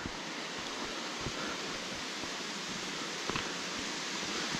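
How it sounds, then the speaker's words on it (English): Steady broadband rush of a waterfall at Mima Falls in Capital State Forest, a continuous even roar from moderately near with a few faint footstep-like knocks and no voices. "is there a waterfall over here? Kind of sounds like it."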